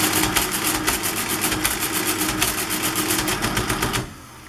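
A Soviet VMM-2 mechanical calculating machine multiplies, giving a fast, steady mechanical clatter of rapid repeating clicks that runs for about four seconds and then stops abruptly.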